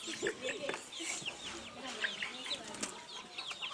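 Hens clucking around a cage of escaping chicks at a monastery farmyard in Wote, Kenya: busy, close chirps and clucks overlapping continuously, with occasional wing flaps.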